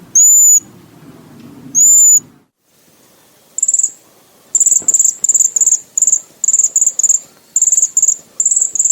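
Cedar waxwing calls, a series of very high, thin, sibilant trills, first two isolated near notes, then a rapid run of repeated short high buzzy whistles after a pause, with faint background hum.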